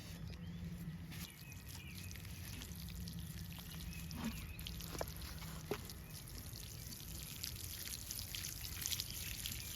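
Water pours steadily onto vegetable plants in a garden, a faint continuous splashing trickle with occasional soft drips and distant bird chirps.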